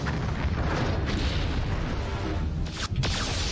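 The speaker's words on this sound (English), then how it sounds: "I'm going to try and get some photon torpedoes off straight away from a distance." The Enterprise A from Star Trek fires photon torpedoes in a space battle game, a sustained loud booming rumble with a sharp burst near the end.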